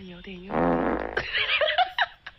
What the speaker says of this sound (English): Why would someone add that fart noise?